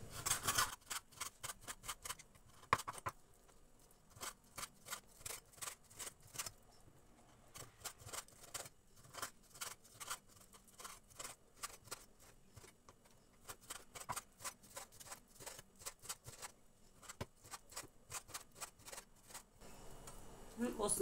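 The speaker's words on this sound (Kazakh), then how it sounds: "Етімізді осылай майдалап тураймыз." Meat for a Kazakh meat pie is finely chopped by hand with a knife, giving a long run of rapid, steady taps on a board, close and fairly quiet, with brief pauses between bursts.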